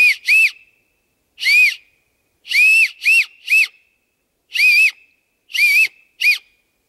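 An acorn cap whistle blown outdoors in the woods gives shrill, piercing chirping blasts in short bursts of two or three, repeated several times with brief pauses, loud and close with no talking.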